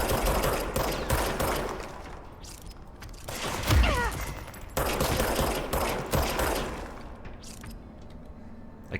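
Enemy gunfire in the game Control pours out as rapid, repeated bursts of shots with sharp cracks throughout, a heavier thump near the middle, and nearly no talking.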